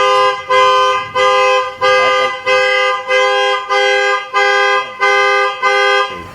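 A motorcycle anti-theft alarm blares in loud, close, evenly spaced electronic honks, about nine identical tones in a steady repeating rhythm with short gaps between them.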